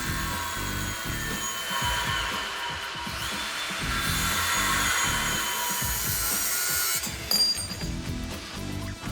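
Metal mount bar on a 1957 Glass Craft car frame trimmed with a power cutting tool, a steady loud grinding rasp that runs continuously, shifts in pitch midway and briefly rattles near the end.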